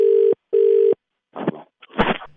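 After a radio prank call is hung up, two steady, loud phone-line tone beeps sound in quick succession, followed by muffled handling and rustling bursts.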